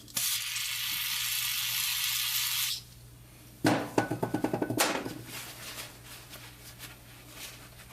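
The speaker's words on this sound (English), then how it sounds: "So now we got to actually take the oil off with some brake clean" Brake cleaner sprays from an aerosol can onto an engine plug in a steady, loud hiss lasting nearly three seconds, then stops. A quieter rattling and clicking follows.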